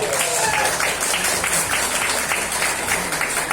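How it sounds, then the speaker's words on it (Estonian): An audience at a rumba dance final applauds steadily, dense clapping filling the whole stretch, loud and close without pause. "Aplaus!"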